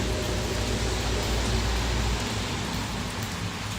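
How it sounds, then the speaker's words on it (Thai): Heavy rain pours down in a dense, unbroken hiss with a deep rumbling undertone, loud and constant from start to finish with no voices. "ฝนได้ตกหนักแล้วนะคะ"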